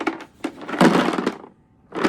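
An empty Cafe Bustelo espresso coffee container with paper slips inside is shaken, giving loud rattling, crunchy bursts in two bouts separated by a short pause, close to the microphone.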